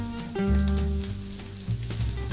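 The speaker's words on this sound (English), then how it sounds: "So we want a little bit of a sizzle when we pop these in." Loud, steady sizzling of chorizo in a hot frying pan, a continuous crackling hiss with a brief surge partway through.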